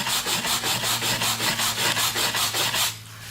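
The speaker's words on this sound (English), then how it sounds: "Now I'm going to take the wire brush" Steady back-and-forth scrubbing of a wire brush scraping putty off a wooden door, close and loud with an even rasping rhythm of about five strokes per second before stopping abruptly.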